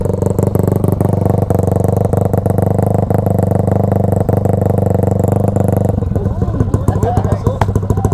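Motorcycle engine held at about 2500 RPM for a 100-decibel noise limit test, a loud steady drone with strong harmonics that drops off near the end, followed by quieter clatter and background talk.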